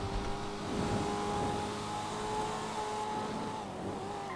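A modded Porsche 911R drives in GTA 5, its engine a steady sustained drone with a whine running through it, sounding close and continuous throughout.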